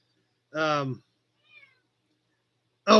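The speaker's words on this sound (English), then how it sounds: "I still hear her over there meowing." A cat gives a clear, close meow, then a tiny faint squeak, and starts another meow at the end, with silence in between.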